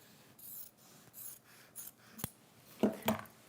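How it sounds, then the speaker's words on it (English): Sharp scissors snip while trimming the end of a piece of fabric, a few soft cuts followed by two louder close snips near the end, with no talking. "I'm just going to trim this end, right?"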